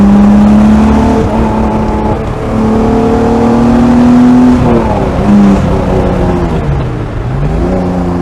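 Alpine A310 GT with a 3.3-litre V6, accelerating at half throttle: a loud, close, continuous engine drone rising in pitch, dropping at gear changes, then climbing again, with no speech.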